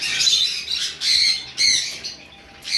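Fischer's lovebirds kept for sale at a bird dealer give a series of loud, harsh squawks in four close bursts, each a second or less, with short gaps and no talking.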